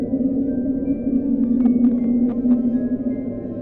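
A mysterious howling underwater sound recorded by NOAA hums steadily and loudly at a low pitch, with faint higher tones wavering over it.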